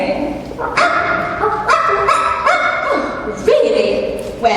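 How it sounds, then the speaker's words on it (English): A dog barks and yips several times up close, excited and high-pitched, with a brief whimpering quality between barks, performed in a school stage production of Mary Poppins. "Don't interrupt when someone's barking."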